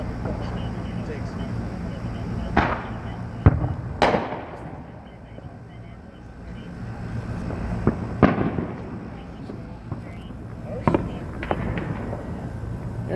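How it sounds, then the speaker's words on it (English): Fourth of July fireworks over Las Vegas pop and boom in scattered sharp bursts, some nearer and louder, with crackling tails and a steady background hum. "enjoying themselves, watching fireworks"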